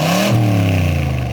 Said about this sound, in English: this car has a factory side pipes. So when you start this thing up, you know you're going somewhere.